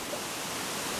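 A waterfall spills over an old mill dam on a river, a broad, steady hiss of rushing water heard close by, uniform and unbroken with no other sounds standing out.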